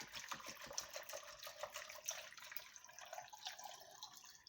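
Water is poured over chopped carrots and ginger in a container for juice, a faint steady trickling and splashing pour close by, with no talk.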